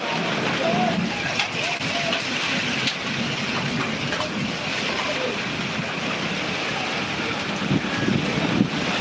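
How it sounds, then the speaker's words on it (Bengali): Steady, roaring wind from a rainstorm in Sylhet, Bangladesh, a constant broadband rush with small gusts, while a voice talks underneath. "প্রচুর বাতাস বইছে এবং ঝড় বৃষ্টি বাড়ছে"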